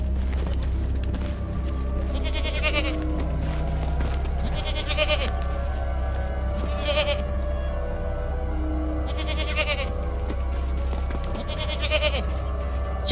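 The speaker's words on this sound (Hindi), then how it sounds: "फिर भीम बकरियां लेकर निकल गया।" Goats bleat in an animated village story, with several separate drawn-out bleats spread at intervals over a low, steady background drone.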